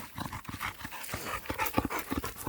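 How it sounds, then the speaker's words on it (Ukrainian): A dog pants rapidly and steadily, close up, with rustling and soft thumps around it. "А ця охотиться за задніми лапами всіх, всіх собак."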